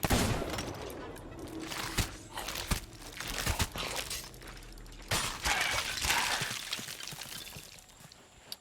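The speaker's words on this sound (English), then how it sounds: "Wipeout, could you shoot the bugger with the big barrel?" Rapid bursts of gunfire and a barrel explosion in the pirate video game Sea of Thieves, a loud, dense clatter of shots and crashes with some shattering debris, ongoing across the whole stretch.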